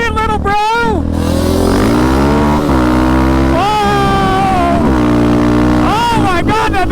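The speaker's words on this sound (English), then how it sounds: "Oh my God, that dirt bike's fast." A Raptor 734 dirt bike races at high speed, its engine loud and close, rising and falling in pitch through repeated gear changes, with people talking and exclaiming over it.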